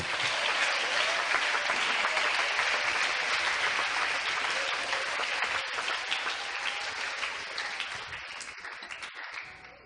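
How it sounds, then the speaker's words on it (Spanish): A church congregation applauding loudly at a sermon: dense, sustained clapping from many hands that fills the space, then gradually thins and fades toward the end. "si ese aplauso es para él, de lo más fuerte"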